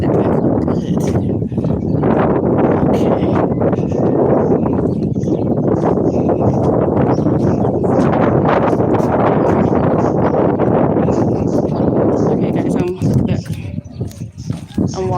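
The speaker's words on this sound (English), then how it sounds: "You guys hear the wind?" Strong wind gusts blowing outdoors, loud and steady across the microphone, with a person talking throughout while walking down steps.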